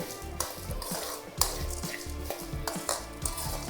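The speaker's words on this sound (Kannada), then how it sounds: "ಧನಿಯಾನೂ ಅಷ್ಟೇ ಫುಲ್ಲು ಲೋ ಫ್ಲೇಮಲ್ಲಿ ಇಟ್ಕೊಂಡು ಫ್ರೈ ಮಾಡ್ಕೊಳ್ಳಿ" Coriander seeds are dry-fried on low flame for idli sambar and stirred with a utensil, producing rhythmic scraping and rattling of the seeds against the pan, close and steady with repeated stir strokes.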